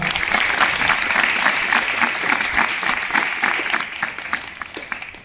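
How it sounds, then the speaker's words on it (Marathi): A crowd claps together in a steady, rhythmic beat at a Jagannath Rath Yatra at a Swaminarayan temple in Savda, loud and lively throughout with no break. "चला जोरात टाळ्यांचा गजर करूया."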